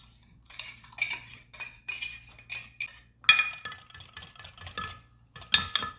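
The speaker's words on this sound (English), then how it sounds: "I'm going to whisk this together." Whisk clinking rapidly against a bowl while mixing an olive oil marinade for chimichurri, a run of bright metallic taps and rattles in short bursts, close and clear, no voices.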